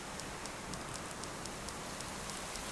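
Rain falling in the survival video game Subsistence, a soft, steady hiss of rainfall with faint scattered drop ticks, quiet and continuous with no voices.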